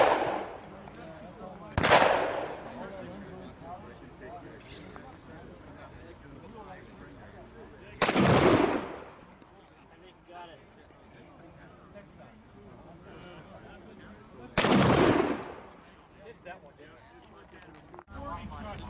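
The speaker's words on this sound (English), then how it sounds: "Let's just go shoot it with some double-aught." Three loud 12-gauge shotgun blasts of double-aught buckshot fired at an LED flashlight, spaced several seconds apart, each with a brief rumbling echo, between stretches of quieter outdoor background and faint voices.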